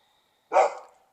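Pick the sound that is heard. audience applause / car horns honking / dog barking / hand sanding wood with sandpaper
dog barking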